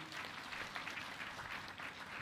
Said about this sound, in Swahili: makofi mengi